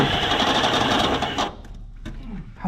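A power drill fitted with a step bit grinds through metal on a Mopar A-body, buzzing loudly and steadily up close before stopping, followed by brief faint clicks and handling noises.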